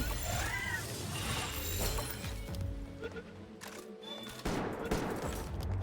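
Sniper rifle shots ring out during a Palworld fight against game music and ambient effects, with sharp broadband cracks standing out near the middle and again toward the end.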